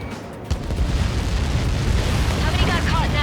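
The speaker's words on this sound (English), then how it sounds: "How many got caught in that explosion?" Missile impact explosion in the Ace Combat 7 aircraft combat game, a sharp onset swelling into a loud, sustained roaring rumble that fills the scene.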